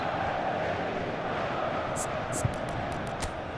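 A football stadium crowd in a video game roars and chants in a dense, continuous wash of voices, with a few sharp bright bursts layered on top near the end.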